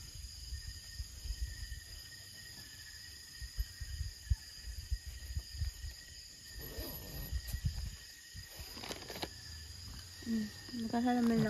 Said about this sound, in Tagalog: Naririnig niyo ba yung mga kuliglig?